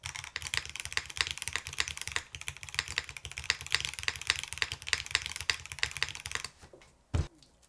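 Fast, steady typing on a Womier SK71 Pro mechanical keyboard with foam added under the bottom gives a dense run of close, crisp keystrokes, which stop near the end before a single louder knock.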